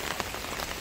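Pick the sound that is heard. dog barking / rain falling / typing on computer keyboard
rain falling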